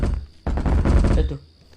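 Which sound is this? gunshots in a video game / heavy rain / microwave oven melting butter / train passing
gunshots in a video game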